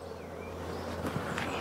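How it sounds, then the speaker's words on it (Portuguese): Bees in a wooden beehive box give a continuous low hum, a dense droning buzz heard close and steady. "Não tem abelhas mortas, não tem nada, ó. Elas continuam trabalhando."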